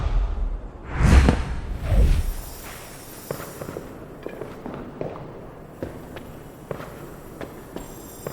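The Depulso spell in the PS2 game Harry Potter and the Order of the Phoenix lands as two heavy whooshing blasts up close, followed by scattered light footsteps and small thuds.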